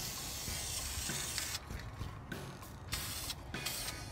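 Spray paint hisses from an aerosol can in light coats on a 1963 Mercury Monterey during a rebuild, a steady broadband spray broken by brief pauses between passes, close and fairly loud, with no talk.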